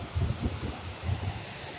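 A waterfall in Norway spilling lightly into spray, a steady, diffuse rushing hiss heard from a distance with low rumbling gusts and no voices.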